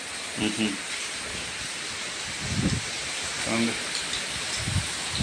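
Steady night rain hisses throughout during a storm with gusty winds, with a few muffled voices talking briefly underneath.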